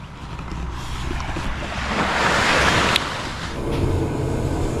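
Waves washing onto the beach at Nelson Bay, New South Wales, late in the afternoon: a continuous surf wash that swells into a louder breaking surge midway, mixed with wind buffeting the microphone.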